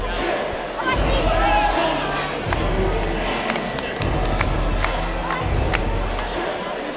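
A fight crowd at a Cage Titans mixed martial arts event roars and cheers as a fighter makes his entrance, a broad continuous arena din with shouts rising over it, sharp bangs and claps scattered throughout.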